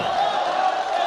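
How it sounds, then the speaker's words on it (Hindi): An audience at a poetry recital at the Jashn-e-Dilli festival breaks into applause for the poet. A brief, dense burst of crowd clapping fills the moment, loud and close. "तालियों से इस्तकबाल करें दोस्तों"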